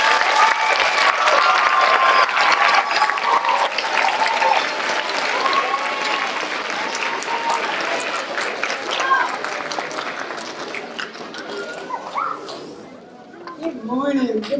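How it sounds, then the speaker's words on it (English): An elementary school audience gives a long, dense round of applause for a guest presenter, loud and sustained with crowd chatter mixed in, thinning out toward the end as a voice begins. "let's give her a big round of applause."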